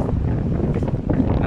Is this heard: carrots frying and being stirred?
no